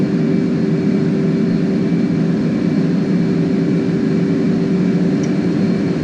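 An F/A-18C jet taking off at full afterburner in the video game DCS World, a loud, steady jet roar with a constant low drone and a high whine, holding level without a break.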